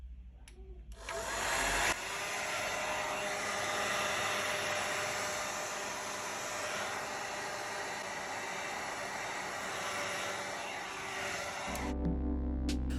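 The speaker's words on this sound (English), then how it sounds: "Use a heat gun or hair dryer to heat up the surface of the back panel." A heat gun or hair dryer blows steadily with a loud, even whoosh for about ten seconds onto a Google Pixel 4 back panel, starting and stopping with brief clicks.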